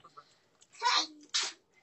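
A single quick sneeze, close and fairly loud, with a sharp intake followed by a bright burst, then quiet.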